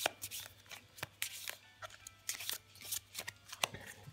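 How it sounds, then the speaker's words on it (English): A deck of fortune-telling cards is shuffled by hand in a series of crisp, riffling flicks and soft slaps, close and fairly quiet, with no voices over it. "I'm going to give him a good shuffle."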